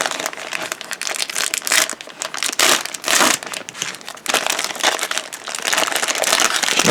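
A sealed plastic bag of 1/72 A-7B Corsair II model kit parts is pulled open and handled, giving loud, close crinkling and crackling in irregular bursts with no talk.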